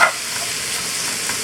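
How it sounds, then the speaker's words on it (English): Honey Dijon salad dressing being stirred into food in a hot pan, a steady close sizzle with soft scraping of the utensil throughout. "now I'm going to stir in a little bit of my honey Dijon salad dressing"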